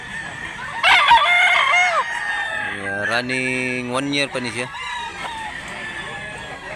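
A gamecock offered for sale crows loudly and close, a long drawn-out cock-a-doodle-doo ending with a few clucks, while someone talks over the start.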